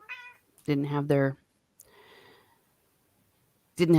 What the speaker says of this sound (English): Sounded like the cat agreed with you.